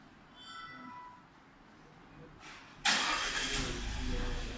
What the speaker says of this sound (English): what you can do after you lock the car, you can start the engine